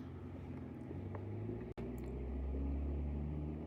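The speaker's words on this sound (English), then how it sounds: "This is the car. And this thing makes a huge amount of noise" A car engine roars loud and close in a steady low rumble, cutting out for an instant midway before surging back even heavier.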